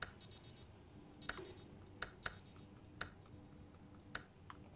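Alarm clock in the video game Superliminal giving short, quiet electronic beeps in quick bursts, interspersed with faint clicks, heard alone in a soft room.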